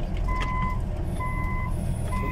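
Reversing alarm on a truck at a construction site, steady two-tone beeps repeating in three bursts over a constant low engine rumble, fairly close and loud.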